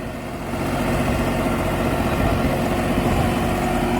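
New Holland 5620 CRDI tractor engine switched into power mode, a steady low diesel drone that rises in the first half second and then holds loud and even.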